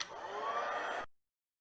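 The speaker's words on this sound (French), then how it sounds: "je vais venir utiliser à nouveau mon pistolet chauffant" A heat gun blows hot air onto embossing paste in a steady, close whooshing roar with a faint whine for about a second before it cuts off abruptly.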